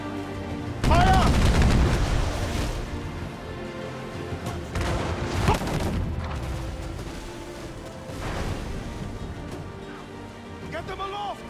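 Ship cannons in Assassin's Creed Freedom Cry fire in heavy, booming volleys with a few loud blasts spread across the scene. Crew members shout orders over the rumbling battle.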